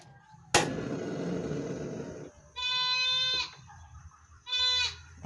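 Goat bleating in two clear, drawn-out calls of about a second each, separated by quiet, following an earlier burst of broadband rustling noise; fairly near and loud.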